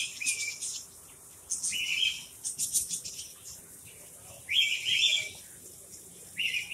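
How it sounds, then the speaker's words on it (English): Birds, including budgies, chirp repeatedly inside an aviary at a reptile zoo, with short bright twittering calls coming in several bursts, near and distinct over faint background noise. "All right, well, here's the birds now."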